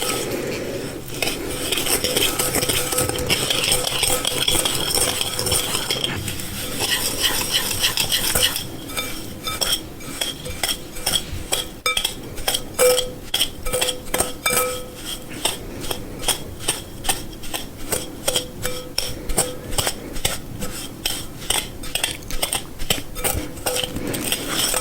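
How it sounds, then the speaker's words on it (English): A whisk works through holiday baking ingredients in a bowl, first in a steady swishing churn, then in rapid rhythmic clinks against the bowl's sides, close and crisp, with no talking. "Okay, so now it is time to whisk all this. I'm gonna take my whisk here."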